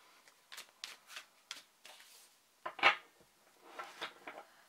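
Tarot cards being shuffled by hand, with a series of soft riffling bursts and one sharper, louder snap near the middle, close and alone.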